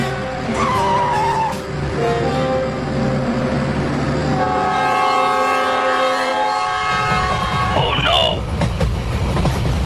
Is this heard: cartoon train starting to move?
yes